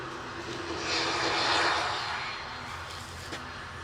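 A Boeing 737-800 jet roars through its takeoff run at Manchester Airport, bound for Salzburg, swelling to a broad rushing peak mid-clip before easing slightly; steady and fairly close with no talk over it.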